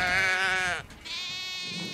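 A sheep in a weigh crate bleats loudly and close, two drawn-out wavering calls with a short break between them.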